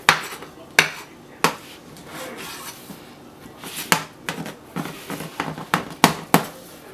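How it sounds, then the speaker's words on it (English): A knife trims excess homemade pizza dough around the edge of a pan, giving a series of sharp, irregular clicks and taps against the metal, close and crisp over quiet background. "We're gonna just take a knife and cut off this excess around the pan."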